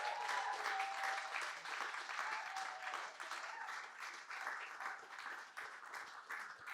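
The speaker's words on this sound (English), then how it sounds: "So let's give a round of applause to all of the performers on Zoom" Faint, steady applause from a small audience after a holiday salon music evening, a continuous wash of claps with a few brief tonal traces at the start.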